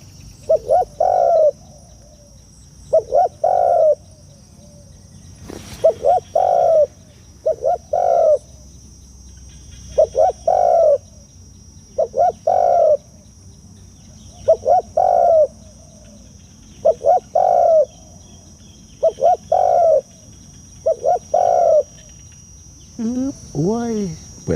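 A wild dove coos in regular, repeated low phrases, about a dozen calls evenly spaced, with a steady high insect buzz underneath and a faint voice near the end.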